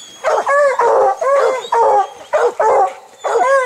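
Hunting hounds on a lion hunt bay and howl in repeated loud, drawn-out bursts, several overlapping voices close by with short gaps between calls.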